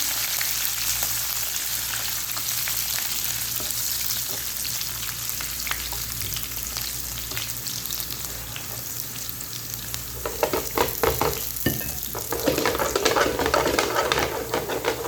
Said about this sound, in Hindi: तो अच्छे तरीके से मैं इसको फ्राई करूँगी